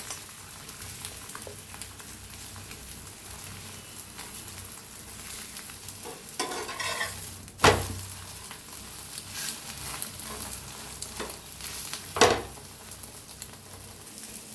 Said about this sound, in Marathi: फिरवून दोन्ही साईड छान असं भाजून घ्यायचं आहे.